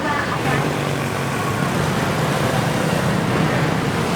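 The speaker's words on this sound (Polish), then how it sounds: "słychać tle cały czas motorki, auta i ten hałas" Dense Saigon street traffic of motorbikes and cars makes a constant loud roar of engines and road noise, close by and unbroken, with faint voices mixed in.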